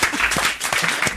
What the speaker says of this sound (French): acclamé par la foule